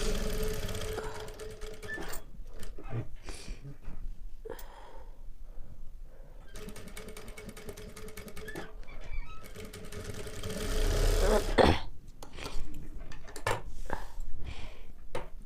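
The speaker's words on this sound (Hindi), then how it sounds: "इस तरह से बकरम की किनारी और हमें इस तरह से स्टिचिंग कर लेना है।" A sewing machine stitches along the buckram edge of a blouse collar in bursts of rapid, close mechanical clatter, pausing and restarting several times with small handling clicks between runs.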